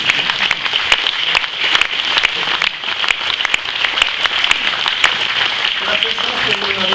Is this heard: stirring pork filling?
no